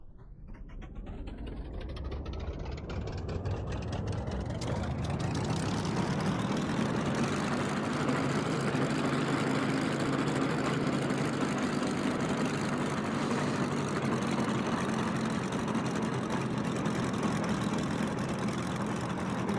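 A Spitfire aircraft engine in a VR flight game cranks and catches, then settles into a loud, steady, rumbling idle that continues without break.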